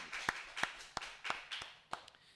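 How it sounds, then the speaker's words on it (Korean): A Korean Full Gospel church congregation claps for God during Sunday worship, giving a faint, fairly even run of about seven separate claps in a row. "하나님께 영광의 박수 드리겠습니다."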